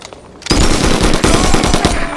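Gunfire in the shooter game 25 to Life, set in a shopping mall: after a brief quiet lead-in, a loud, sustained burst of rapid automatic fire erupts, close and dense, with individual shots rattling in quick succession.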